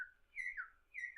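Two short bursts of high, sliding whistles mimicking bird chirps, fairly close and clear, separated by a brief pause.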